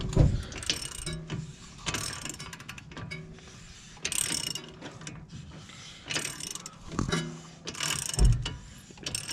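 A driveshaft nut being undone on a Volvo V70 front hub, with the brake disc removed: a run of ratcheting clicks and metallic clanks in uneven bursts, close and fairly loud, with no talking.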